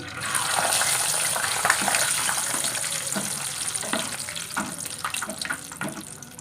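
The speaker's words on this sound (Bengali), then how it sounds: "চিনে বাদামগুলো ভেজে নিচ্ছি" Peanuts fry in hot oil with a dense, crackling sizzle, close and loud, dotted with repeated stirring scrapes and pops throughout.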